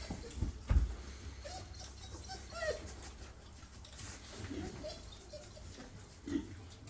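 Pigs grunt and snuffle softly while feeding, with an occasional louder oink and faint background noise, close by and unhurried.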